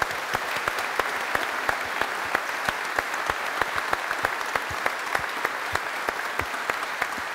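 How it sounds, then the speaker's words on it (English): Steady crowd applause at a church farewell and thanksgiving service for a retiring bishop, many hands clapping in a dense, even wash with sharp individual claps standing out, moderately loud and sustained throughout with no talking. "give Bishop Paul and Mama Celine a round of applause"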